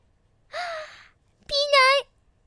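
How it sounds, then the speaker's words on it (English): A cat meows twice up close in a quiet room: a mournful first cry, then a second that rises and breaks, with near silence before and between them. "His meows sound really sad for some reason."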